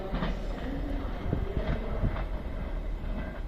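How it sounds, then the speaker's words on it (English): A Class 390 express from Liverpool Lime Street to London Euston runs through Crewe on the West Coast Main Line, a fairly quiet rolling rumble with a few sharp clanks over the rails, no talk. "390 154, working the express service from Liverpool Lime Street to London Euston"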